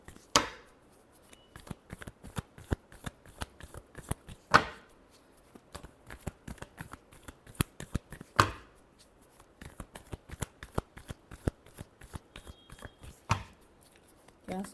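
Tarot cards are shuffled by hand in repeated rapid riffles and soft taps, with louder sharp slaps every few seconds, while a voice talks quietly at times.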